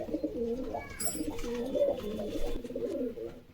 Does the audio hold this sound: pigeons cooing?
yes